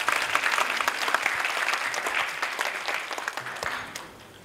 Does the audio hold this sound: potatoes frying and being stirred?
no